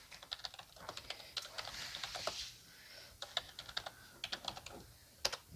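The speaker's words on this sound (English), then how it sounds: "I'm going to try to type in the title." A computer keyboard being typed on while entering a product title, with quick bursts of clicking keystrokes, brief pauses between runs, close and fairly quiet, no voices.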